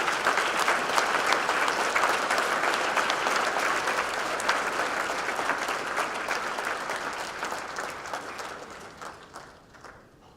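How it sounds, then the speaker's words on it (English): A conference audience in Tucson gives Noam Chomsky a big round of applause, dense sustained clapping that gradually thins and fades toward the end. "Let's give him a big round of applause."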